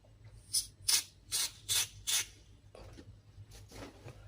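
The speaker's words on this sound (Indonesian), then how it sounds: "Kita semprot." Cleaner sprayed onto a potentiometer in the front control panel of a Martin Roland amplifier: five quick, close hissing bursts, then two softer spurts.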